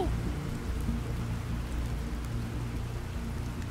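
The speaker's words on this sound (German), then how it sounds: "Doch, Regen, Regen," Rain pours in the Planet Crafter video game as a constant, dense wash of falling drops over a low rumble, steady and unbroken from start to finish.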